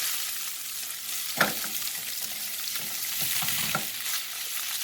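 Fish sizzles steadily in hot oil in a pan for tacos, a constant bright crackle with a few louder pops and spatters, close up and with no talking.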